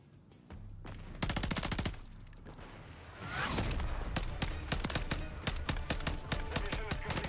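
Rapid automatic gunfire from a low-recoil gun in Call of Duty: Modern Warfare III, several long bursts of sharp, closely spaced shots, loud and near, with a short pause between bursts and a voice talking underneath.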